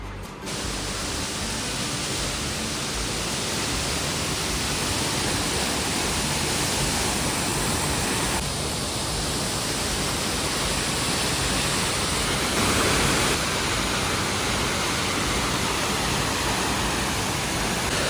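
Jogini waterfall near Manali, Himachal Pradesh, running low on water, gives a continuous, even roar of falling water that holds steady throughout.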